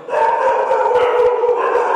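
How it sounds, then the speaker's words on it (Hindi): Dogs barking close by at night, a rapid run of sharp, loud barks and yips that keeps going without a break, with no talking over it. "फिर कुत्ते आ गए"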